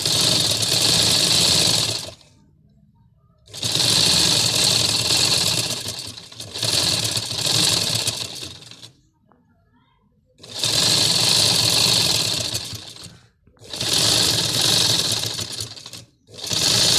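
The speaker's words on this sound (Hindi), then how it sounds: "एक और सिलाई लगाऊंगी ताकि चुनटे अच्छी तरह डलें।" A sewing machine stitches gathers on an umbrella frock in five loud, close bursts of rapid whirring, each lasting a few seconds and separated by short quiet pauses.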